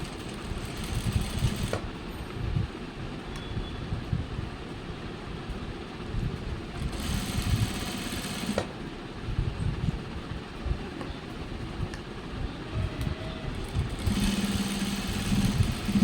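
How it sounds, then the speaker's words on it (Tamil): A sewing machine stitches a school uniform pant in a steady continuous mechanical hum and rattle that runs for about sixteen seconds, with brief brighter bursts where the stitching speeds up. "இப்போ பாருங்கள், நான் தைக்கிறேன்"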